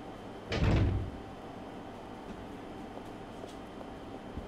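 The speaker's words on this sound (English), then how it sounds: "Go through the door here." A door opening in the survival horror game Resident Evil 0, a single loud burst of creaking and thudding that fades quickly into a quiet, low room hum.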